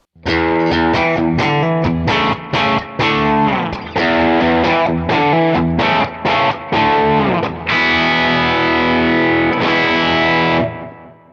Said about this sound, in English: That still sounds like a light overdrive.